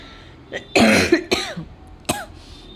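A few harsh, close coughs in quick succession, one long bout followed by two shorter ones, with quiet between them.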